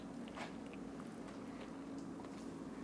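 Close chewing and biting on brown sugar and soy sauce chicken eaten off the bone by hand, soft moist crunches repeating over a low steady room hum, quiet with no talking.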